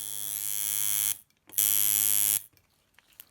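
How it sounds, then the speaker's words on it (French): A classic coil tattoo liner machine buzzes loudly as the foot pedal is pressed, running in two steady bursts of about a second each, separated by a short silence and trailing off into quiet clicks. "j'appuie sur la pédale et là la machine fonctionne"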